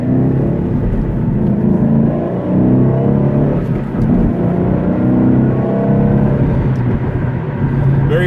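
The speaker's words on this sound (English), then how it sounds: "The acceleration on it's really nice. You'll see here when I'm getting on the interstate." A 2013 Ford Mustang GT with a 3.73 rear gear accelerates onto an interstate, its V8 rising in a loud, smooth throaty roar heard from inside the car, sustained throughout.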